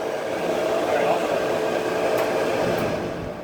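A Kenmore 80 Series electric dryer, just fitted with a replacement motor, running with a steady loud whirring drone and tumbling rumble, close by.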